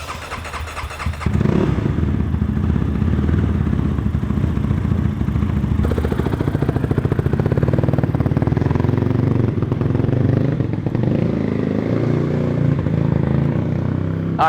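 A dirt bike engine in second gear roars up close and steady after a short quieter start, its pitch stepping up partway through and staying loud, with no talk.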